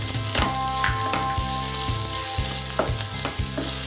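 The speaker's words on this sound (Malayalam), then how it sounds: "സവാള ചേർത്ത് നന്നായിട്ടൊന്ന് വഴറ്റി കൊടുക്കണം." Onion and ginger fry in a pan for bread samosa potato masala filling, a steady loud sizzle broken by regular knocks of a spatula stirring against the pan, with no talking.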